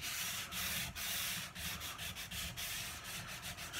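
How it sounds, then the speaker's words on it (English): Light hand sanding along the edges of a wooden dining table, a close, raspy scrubbing in short back-and-forth strokes with brief pauses between passes, steady and unaccompanied by talk. "I'm not going for a sort of a very pressured sanding here. I just want to just smooth off the edges a little bit"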